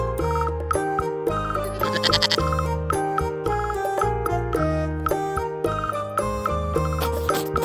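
A goat bleats once in a wavering cry, set against a bouncy, chiming musical accompaniment that plays throughout.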